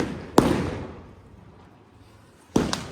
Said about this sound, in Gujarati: ફટાકડો નીચે